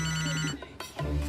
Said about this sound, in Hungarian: A mobilotok. Apátok hív.